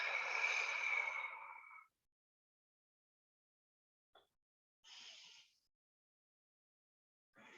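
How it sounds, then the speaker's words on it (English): Slow deep breaths during a yoga session: a long, fairly loud exhale, then near silence, a faint short breath and a softer breath, with another breath starting at the end, no talking. "Let's take 3 deep breaths in and out together."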